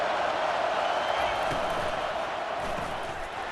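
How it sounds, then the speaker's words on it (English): A dense stadium crowd roars steadily in EA Sports College Football 25, a broad wash of cheering held at a constant level while a commentator's voice runs over it. "This crowd going to try to make life miserable for these guys"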